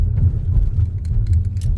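A car creeps slowly past a parked truck and van, with a low, steady engine and road rumble heard from inside the cabin and no other prominent sounds.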